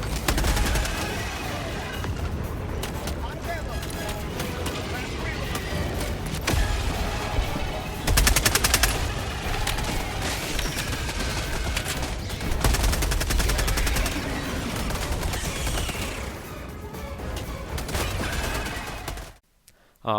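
A sentry fires in the Helldivers video game, a dense, continuous burst of rapid gunfire with thuds and crashes mixed in, loud and sustained for nearly twenty seconds.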